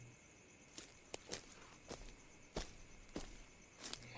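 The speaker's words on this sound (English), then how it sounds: "It's footsteps, very familiar footsteps, the sound of leather boots sinking into the mud." Leather boots step into mud, a series of about eight soft, squelching footfalls at an uneven walking pace, fairly close but quiet, alone against a faint background.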